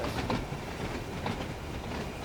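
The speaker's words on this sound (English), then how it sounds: "Let's have a nice look at our train and just listen to the sounds for a minute." Train Sim World 2 simulation of an Isle of Wight line train running from Ryde Pier Head to Shanklin: a steady close rumble of rolling stock with rhythmic clickety-clack wheel beats over the rail joints, heard alone.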